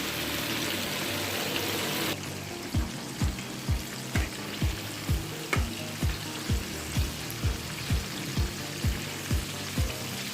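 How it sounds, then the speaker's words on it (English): Oil crackles and sizzles steadily as chicken fries, with a regular series of soft low thumps pulsing underneath at an even rhythm. "So there it is, frying away, guys."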